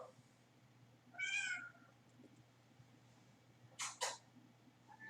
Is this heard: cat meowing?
yes